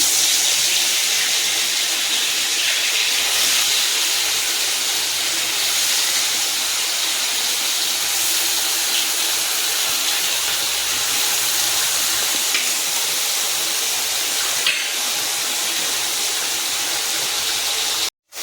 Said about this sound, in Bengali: তেল আমার গরম হয়ে গেছে, আমি মাছটা ছেড়ে দিচ্ছি।